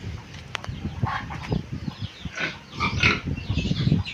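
Two pigs on a Philippine farm grunt and snuffle at close range, irregular low grunts scattered through the clip with a few brief higher squeals, alone without talk.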